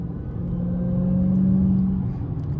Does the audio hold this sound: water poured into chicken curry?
no